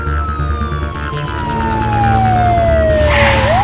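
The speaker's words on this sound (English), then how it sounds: "Officer, please stop the siren." Police car siren on a city street in the children's cartoon Supercar Rikki, a loud continuous wail sweeping steadily downward, with vehicle noise underneath.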